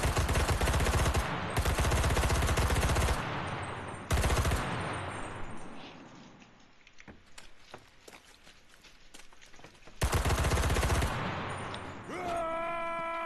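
A Soviet squad's gun firing in the World War II video game Enlisted, loud automatic bursts broken by pauses, with footsteps and lighter shots in the gaps and a final long burst.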